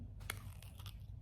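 Crunchy Dubai kanafa chocolate bar bitten close up, two or three quick crisp crunches over a low steady background hum.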